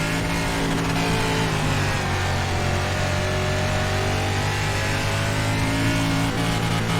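Dirt race car engine in iRacing running at a sustained, loud mid-pitched roar with steady harmonics, a continuous drone with no talk over it.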